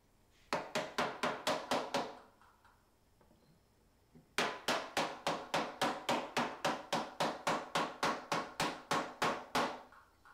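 A wood panel is hammered into a blanket chest frame: a quick run of about eight sharp, ringing blows, a pause, then a longer steady series of nearly twenty evenly spaced strikes, close and crisp.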